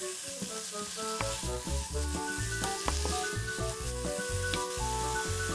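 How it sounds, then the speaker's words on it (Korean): Shredded cabbage stir-fried with bacon, green onion and chili in a hot pan, a steady loud sizzle with crackling bursts and light stirring scrapes throughout, no talk. "베이컨, 대파, 청양고추 넣고 함께 볶아주세요."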